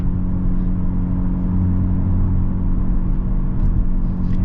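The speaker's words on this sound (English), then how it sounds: "This exhaust is so good." A 2023 Hyundai Elantra N drives with its exhaust sounding out as a steady, low engine rumble heard from inside the car, loud and continuous with slight rises in revs.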